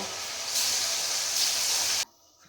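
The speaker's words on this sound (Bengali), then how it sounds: "এবারে দেখো আমি এর মধ্যে পাবদা মাছটা ভেজে নেব।" Pabda fish fry in hot oil in a pan, a loud close sizzling hiss that swells after a moment and holds, then drops off abruptly near the end.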